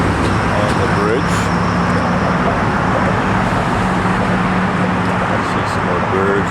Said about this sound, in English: As you can hear, there's a fair bit of traffic